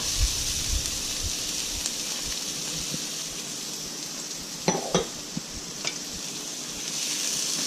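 Chopped green peppers and celery sizzle and hiss steadily in a hot frying pan, with a few soft clicks and scrapes of stirring against the pan.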